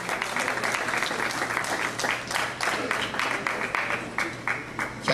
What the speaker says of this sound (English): With a round of applause, can we gently welcome our president of CMPI, Dr. Uchenna Eko.